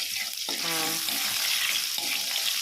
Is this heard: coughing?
no